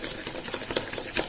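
Hung curd being stirred in a bowl for a carrot cake batter, a soft, close, irregular squelching and scraping with quick repeated strokes.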